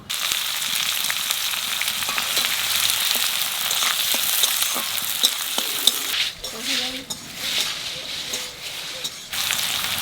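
Onions with dried chillies, cumin and bay leaves frying in oil for a giant freshwater prawn curry, a steady loud sizzle with scraping stirs, quieter and choppier in the last few seconds.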